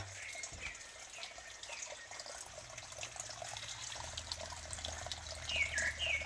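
Water from a mountain stream trickles and flows steadily outside an outdoor sawdust eco toilet, a soft continuous wash with faint bird chirps near the end.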